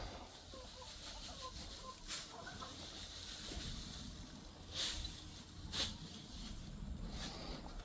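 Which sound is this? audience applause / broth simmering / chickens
chickens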